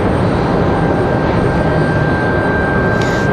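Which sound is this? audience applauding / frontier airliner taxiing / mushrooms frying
frontier airliner taxiing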